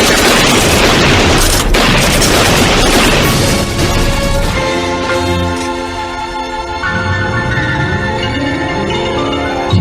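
Loud, dense gunfire sound effect from a Filipino radio drama, a sustained barrage of booming shots and crashes for several seconds that eases into a ringing tonal tail, with no voices.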